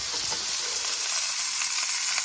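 Scallops searing in a hot pan give off a steady, close, loud sizzle that holds evenly throughout.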